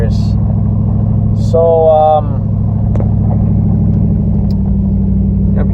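A truck engine runs in low-range gears with a steady low rumble and droning hum, a brief higher whine midway, while someone talks over it.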